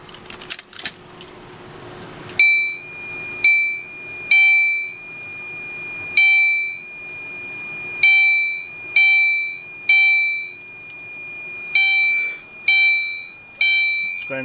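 A fire alarm system tested after its pull station is pulled, with Gentex notification appliances and an ADT panel, sounds a repeating electronic tone pattern in steady pulses alone for most of the span, following a brief burst of handling noise.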